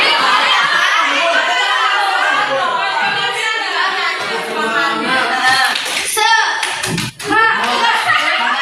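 A group of people in a workshop or training session perform a rhythmic spirit clap, tepuk semangat, with loud, close patterned clapping mixed with lively chatter, voices and laughter.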